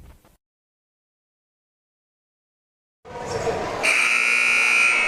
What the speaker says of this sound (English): that buzzer was loud and scared me